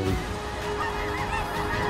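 A flock of snow geese honks constantly in a dense, loud chorus of overlapping calls, outdoors during a hunt.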